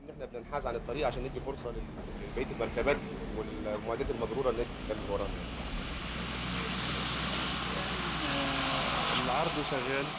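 Military aircraft trailing colored smoke fly over a parade, their engine roar building into a steady, broad rumble that rises toward the end, heard under speech and crowd noise.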